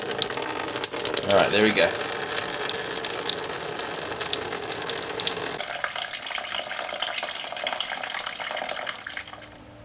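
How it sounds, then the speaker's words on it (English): Coolant draining from a 2008 Honda Civic Hybrid, a continuous splashing trickle of liquid with ratcheting tool clicks early on. It softens partway through and someone speaks briefly. "so the coolant is drained out"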